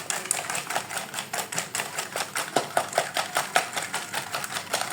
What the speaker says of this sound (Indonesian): Kemudian kita kocok sampai tercampur merata dan margarin itu tidak bergerindil